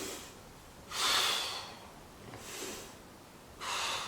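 Several strong breaths are pushed out hard during a workout, three loud airy bursts with a softer one between them, close and alone without talk.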